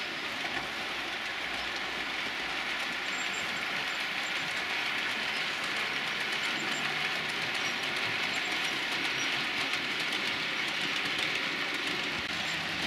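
A CMX track cleaning car runs on a model railway, producing a continuous, even rolling rumble with faint clicking throughout and no pauses.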